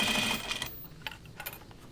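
A home sewing machine stitches through denim jeans in a short close burst, motor whirring briefly before slowing to a few scattered clicks.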